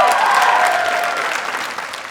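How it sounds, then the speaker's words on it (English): An audience at a stand-up comedy show claps together in a dense burst of applause that gradually thins and softens over a couple of seconds. "Give me a clap."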